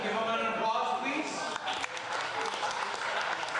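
An audience at a political fundraiser breaks into steady clapping that carries on to the end. A voice can be heard faintly over the applause.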